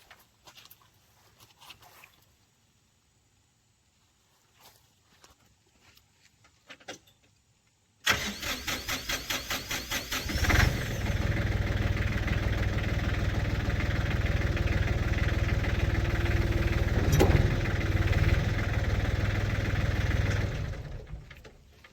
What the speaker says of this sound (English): so I'm going to raise the tractor up a little bit